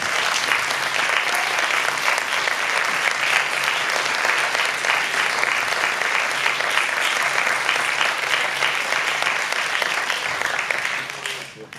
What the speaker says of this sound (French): Mesdames, messieurs, sur vos applaudissements.